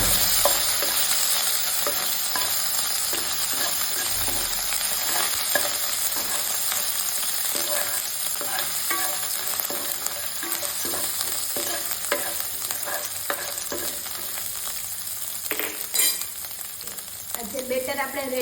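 Ginger chilli paste stirred into Punjabi kadhi in a pan, a continuous sizzle with steady scraping stirring strokes throughout, close and fairly loud.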